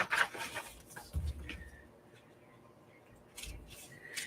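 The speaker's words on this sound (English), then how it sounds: "I'm just using my scissors and the line isn't straight." Scissors snip through cardboard packaging being cut into craft tags, giving a few short, close, dry cuts and rustles with quiet pauses between, heard alone without talk.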